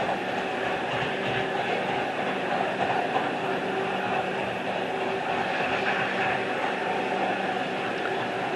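A model train locomotive running on a speed-match test track at throttle setting 70 gives off a continuous, even motor whir with a light rail clatter that stays steady throughout, with no voices.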